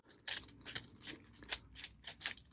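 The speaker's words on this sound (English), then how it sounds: "I'm going to shuffle these to a combination that I don't know." Combination lock number wheels being spun back and forth by hand, a series of quick, close metallic clicking bursts in an irregular rhythm, fairly faint, with no talking.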